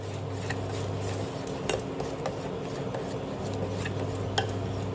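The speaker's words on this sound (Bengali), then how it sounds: "ভালো মতন ঘুটে দিতে হবে" A spoon scrapes and clinks against a pot while coconut ice cream mixture is stirred, giving irregular metallic taps over a steady low hum, with no talking.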